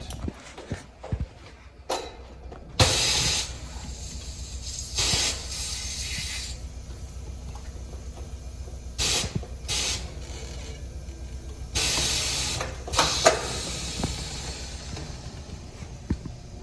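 A pedal-operated tire changer's clamping arms moving in to grip a wheel rim, with loud bursts of pneumatic hissing, mechanical creaks and clunks, separated by quieter stretches of machine hum.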